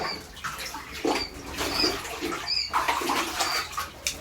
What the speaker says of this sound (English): I'm going to take out their old water and dump it out on the grass.